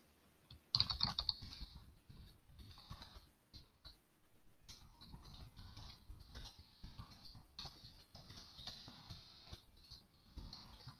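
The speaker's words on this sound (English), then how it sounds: "come in here and type in the text that you want for your message" Message text being typed on a computer keyboard; a steady patter of close, quiet key clicks runs throughout with a few short pauses, no voices.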